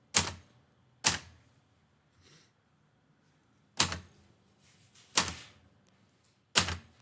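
Typewriter keys struck one at a time, five sharp, loud mechanical clacks spaced irregularly a second or more apart with near silence between them, close up and with no talk.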